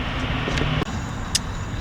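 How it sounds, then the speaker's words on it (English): A car with a damaged wheel passes outside amid steady road noise, with a brief scrape and a couple of short clicks and squeaks over the constant traffic hum and no talk. "A truck came, and then a car with a messed up wheel"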